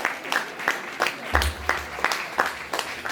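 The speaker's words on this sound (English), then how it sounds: "Let us give a round of applause for Ashok Chand" An alumni meet audience gives a round of applause, a moderate, evenly paced clapping from a gathered crowd, with a low hum underneath.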